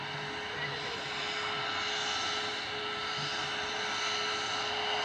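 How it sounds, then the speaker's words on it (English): Ryanair airliner bound for Lanzarote lining up for departure at Manchester Airport, a steady low engine rumble and whine held at a distance throughout. "Ryanair 2131 heading to Lanzarote, EIHGX, lining up"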